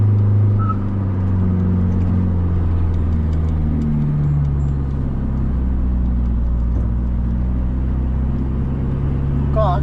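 A heavy truck loaded with four tons runs downhill through Chong Ta Ko pass in second gear. Its loud, close engine drones steadily low with slowly shifting pitch while someone talks over it.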